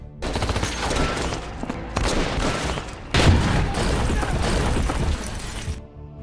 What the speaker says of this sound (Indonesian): hingga aksi tembak-tembakan pun terjadi di sana